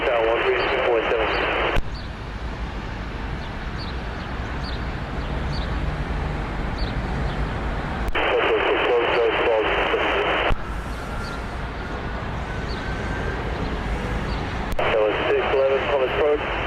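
Jet engines of a Boeing 737 airliner hum steadily in the distance while a person speaks and radio chatter comes and goes over the top.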